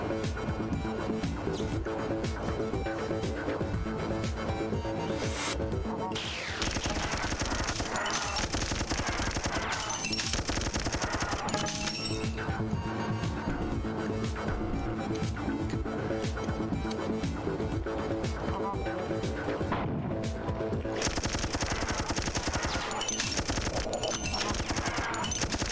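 Fusion cannon and other gunfire ring out in the shooter game Marathon: Phoenix, a long dense barrage of rapid repeated shots and bursts, loud and continuous for about twenty-five seconds with brief lulls.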